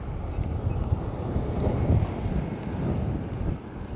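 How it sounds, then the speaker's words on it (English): Strong wind buffeting a microphone beside a roadside ditch, a low rumbling roar that swells and gusts continuously. "it is so windy today"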